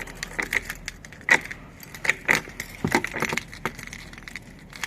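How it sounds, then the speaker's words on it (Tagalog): A bunch of keys jangles in quick, uneven bursts of bright metallic clinks, close to the microphone, for several seconds with no talking. "hindi ko pa makakalimutan yung susi"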